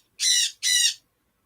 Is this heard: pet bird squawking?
yes